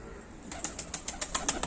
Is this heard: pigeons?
yes